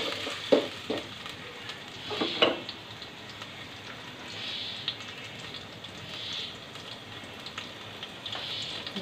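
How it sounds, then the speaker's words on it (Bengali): Onion frying in oil for Bengali mung dal muri ghonto: a steady, soft sizzle with faint crackles, plus a few brief clinks or stirring knocks near the start. "পেঁয়াজটা কিছুক্ষণ ভেজে নিব।"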